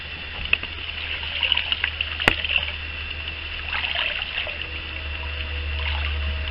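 Hot water trickles and splashes steadily to rehydrate a towel used in tanning raccoon hides, a soft continuous pour with one sharp clatter partway through and faint background hum.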